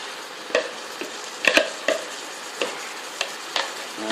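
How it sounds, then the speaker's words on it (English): Sauce stirred through vegetables in a pan gives a soft sizzle punctuated by a series of sharp utensil scrapes and knocks against the pan, close and fairly loud. "Start to stir that through."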